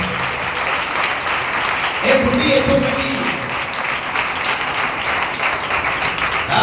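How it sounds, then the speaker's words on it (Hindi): A church congregation claps during a Sunday service, a sustained wash of applause from the crowd while a preacher's voice speaks over it. "मार लो फिर तालियां एक बारी बोल के,"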